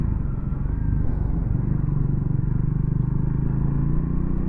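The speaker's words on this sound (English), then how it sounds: "that exhaust sounds lovely, especially when the revs go right down" A Triumph Scrambler motorcycle idles at low revs, its exhaust giving a steady, deep burbling rumble close by, with no voices over it.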